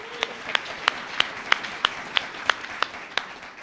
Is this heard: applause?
yes